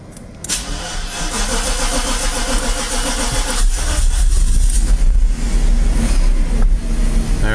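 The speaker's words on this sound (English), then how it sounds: "It's a big V8 5-liter engine." A big V8 5-liter car engine, jump-started with a portable battery jump box, cranks briefly and then catches. It settles into a loud, close idle that swells stronger partway through.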